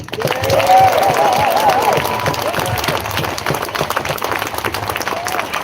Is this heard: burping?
no